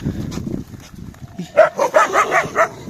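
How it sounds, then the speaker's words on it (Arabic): A dog barks several times in a quick, uneven burst, close and loud, after a stretch of quieter muffled background sound. "هاي كلب"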